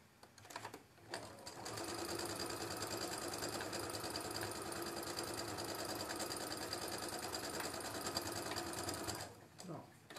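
A sewing machine stitches a patchwork quilt block in one long unbroken run, a fast, even, close whirring that starts and stops cleanly, with brief sounds of handling before and after.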